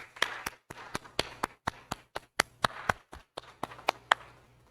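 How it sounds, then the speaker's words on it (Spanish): Sparse clapping from a small audience at a university talk on entrepreneurship, a few distinct, close hand claps in an uneven rhythm with short pauses. "un aplauso, por favor"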